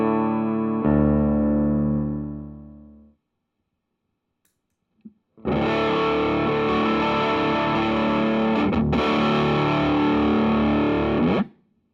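LSL Saticoy electric guitar into a JHS Twin Twelve and a Divided by 13 FTR 37 amp: a chord rings out and fades, then after a pause a long, dense strummed passage sustains for several seconds before stopping abruptly.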